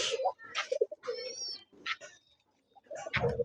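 Pigeon chicks inside a pigeon house make short repeated cooing and squeaky cheeping calls in bursts with brief pauses, close and fairly quiet.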